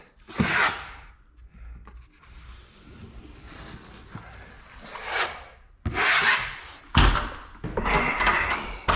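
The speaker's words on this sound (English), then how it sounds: "So I just go up in there with my trowel." Steel trowel spreading joint compound across a mobile home wall during joint filling, heard as a few scraping, rasping strokes in bursts with soft bumps between them, fairly close and with no talking.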